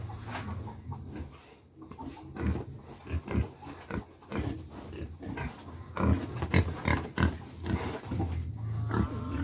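Pigs freshly awake grunt and snort in an irregular run of short, fairly close bursts, with faint clucking of chickens somewhere in the background.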